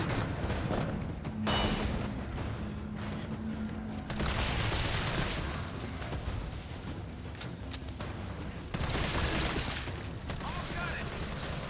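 A flashbang goes off in Resident Evil 3 Remake, a sharp blast with a ringing whine trailing after it, set within dense, noisy game action and loud bursts, while a voice talks in the background.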